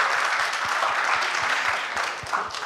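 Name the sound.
audience applause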